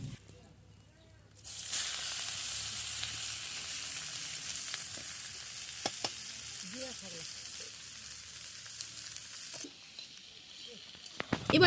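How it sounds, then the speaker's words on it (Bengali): Crushed garlic and torn dried chillies fry in hot oil in a wok, a loud, steady crackling sizzle that starts abruptly and eases off toward the end. "রসুন ফুটতে শুরু করেছে, এবার দিয়ে দিব শুকনো লঙ্কা ছিঁড়ে, ভাজা ভাজা করে নিব।"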